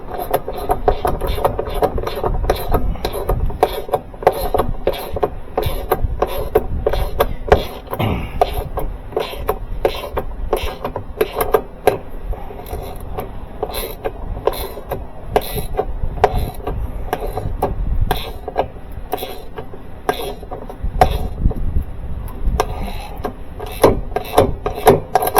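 A 7/16 inch socket tightens a fastener on a Maytag Bravos XL washer gearcase. It makes repeated close ratcheting clicks and scraping in uneven bursts, with occasional knocks.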